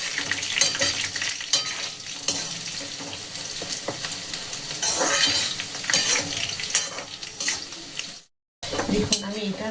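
Food fries in a pan with a steady crackling sizzle, with bursts of stirring and scraping, ending in a brief silence before the frying resumes.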